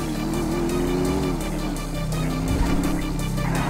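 A 140-cubic-inch motorcycle in Grand Theft Auto V roars at a steady, sustained drone throughout, with a wavering engine tone and road noise, loud and constant without speech.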